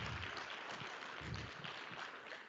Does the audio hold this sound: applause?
yes